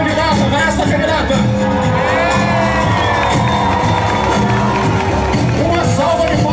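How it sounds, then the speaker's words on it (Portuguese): A large, loud Carnival street crowd at a moonwalker dance contest cheers and shouts for a female contestant. Whoops, children's shouts and busy crowd babble merge into one dense, continuous roar. "Agora, uma salva de palmas para a candidata."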